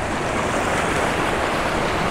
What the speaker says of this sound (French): les premières vagues sont très loin